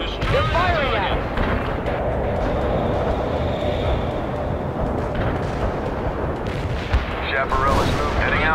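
Gunfire and artillery blasts in a war video game battle, a dense continuous barrage with distant booms rumbling under shouted voices and game dialogue throughout.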